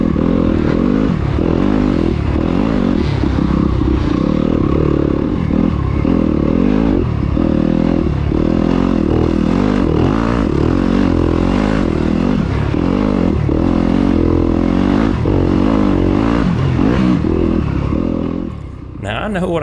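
A Yamaha YZ250FX enduro motorcycle ridden through sand in the desert section of a sprint enduro race, its loud, continuous engine droning and rising and falling with the throttle, close to the rider, amid steady clatter.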